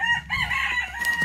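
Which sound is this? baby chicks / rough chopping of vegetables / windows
baby chicks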